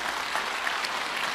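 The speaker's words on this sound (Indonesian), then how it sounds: "Tepuk tangan dong buat Tuhan." Applause from a church congregation during a worship service, a steady dense clapping that fills the whole moment with no voices over it.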